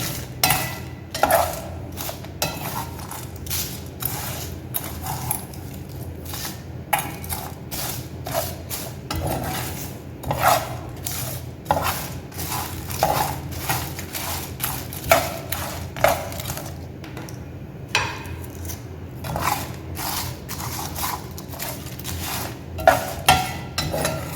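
Whole garam masala spices stirred in a pan while dry roasting, a steady scraping and rattling of seeds against metal with repeated clinks from a spoon, close and continuous, no voices.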